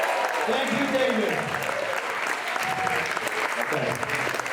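An audience gives David a big round of applause at a retirement celebration. Sustained broadband clapping fills the room from a crowd, steady and fairly even throughout, with a voice faintly heard over it.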